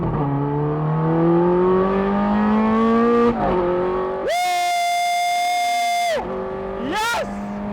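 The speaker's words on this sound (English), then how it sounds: "here's my first ride in the 2009 Ferrari 16M" A 2009 Ferrari 430 Scuderia 16M engine revs hard on a drive, climbing through the gears with sharp shifts and a loud, high wail on a sustained pull, heard close and loud from inside the car.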